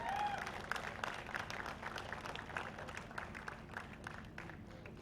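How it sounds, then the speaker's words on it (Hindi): Audience applause at the launch of a new TV serial, steady clapping from a crowd that starts fuller and stays at a moderate, even level throughout, heard at some distance in a hall. "एक और बार मैं आप सभी से रिक्वेस्ट करूंगा जोरदार तालियां हो जाए"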